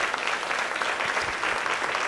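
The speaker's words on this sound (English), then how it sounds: "How about a big clap for our third graders?" Parents and audience clap for third graders at an elementary school instrumental concert, a brief, steady round of applause in a hall, fairly loud and unbroken by talk.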